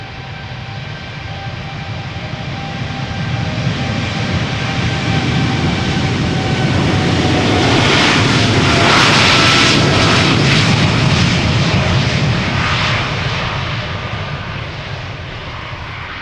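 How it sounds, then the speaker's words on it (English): A United Airlines Boeing 787-8 Dreamliner, flight 908 to Chicago, takes off at Amsterdam Schiphol Airport with a loud, continuous jet roar that swells to a peak midway and then slowly fades as it climbs away. "Alrighty, not KLM, but United Airlines flight 908 on its way to Chicago."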